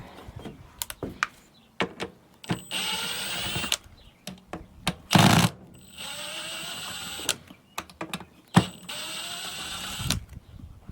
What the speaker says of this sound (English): got my Phillips driver